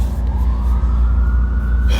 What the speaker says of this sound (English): I just talked through all those sirens.